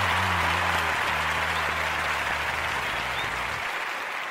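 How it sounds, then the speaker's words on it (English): A small crowd at a Festivus airing of the grievances gives a short round of applause, steady dense clapping that holds evenly for a few seconds and then stops, with a low hum underneath at the start. "Let's a little round of applause"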